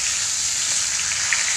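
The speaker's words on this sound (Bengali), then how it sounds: "দেখো গাইস, এখন মাথা ভাজা চলছে" Fish heads frying in hot oil give a steady, close sizzling hiss that holds evenly through the short stretch, with a faint pop or two and no voices.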